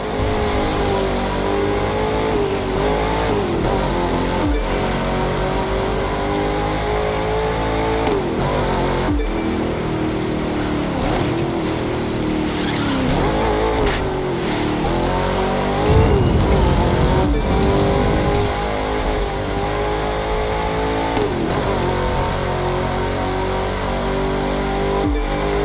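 Race cars in The Crew 2 video game accelerate and rev continuously, a dense, loud engine roar with rising and falling pitch sweeps as gears change, sustained throughout without pause.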